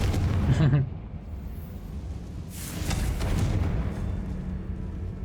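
A Confringo fire spell blast goes off in the Hogwarts Legacy video game: a booming, fiery burst rises after a rumbling opening, then a sustained roar fades out across several seconds.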